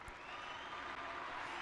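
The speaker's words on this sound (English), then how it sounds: "That's a round of applause." Steady applause from a small crowd, a continuous even wash of clapping heard at moderate distance throughout.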